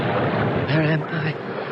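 Ocean waves wash around a ship at sea in the Indian Ocean, a steady rushing ambience as the setting for a radio drama, with a voice briefly heard over it partway through.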